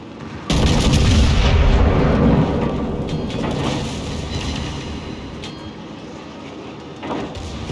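Heavy naval artillery guns firing from the Vittorio Veneto battleship in World of Warships: a loud booming salvo that rolls and rumbles away, with fainter distant thuds after it.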